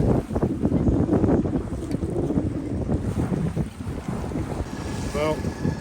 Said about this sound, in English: Beautiful day of sailing.